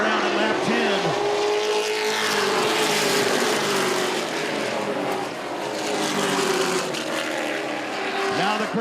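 Race trucks roar around the oval during a 2014 Camping World Truck Series race, the Affordable 250, at lap 10, engines droning loudly and steadily as they pass, with a commentator's voice running over the noise.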